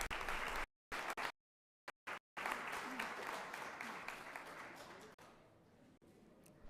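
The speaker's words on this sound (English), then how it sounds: "One more big round of applause for all these AP scholars." Audience clapping for AP scholars at a high school district board meeting, a moderate round of applause broken by abrupt cutouts and then fading toward the end.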